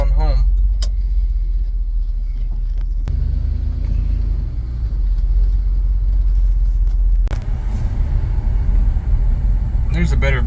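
A 1978 Dodge D200 pickup truck drives on scenic back roads, its engine a steady, loud low rumble throughout, with a few brief clunks and someone speaking over it.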